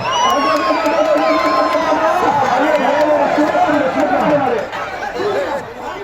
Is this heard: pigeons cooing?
no